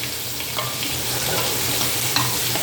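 Fish frying in a pan for a home-cooked curry, a steady close sizzle and crackle with a low hum beneath and a few faint clinks, no voices.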